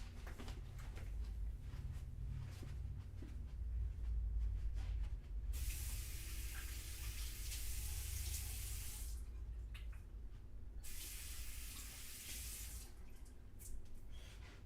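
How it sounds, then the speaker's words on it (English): Tap water runs steadily into a sink during handwashing, a continuous close splashing hiss with brief shifts in intensity as hands move under the stream, no talking. "I'm gonna wash my hands."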